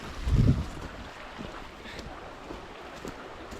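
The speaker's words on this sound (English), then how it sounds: "Flowing river." A river swollen in the rainy season flows steadily past a village path, giving a constant rushing wash of water with a gust of wind buffeting the microphone at the start.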